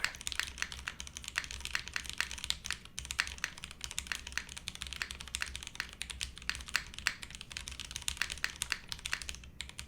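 Steady, fast typing on an O-ring TKL mechanical keyboard with a PBT spacebar: continuous dense clacks of keys close to the mic, with no voices.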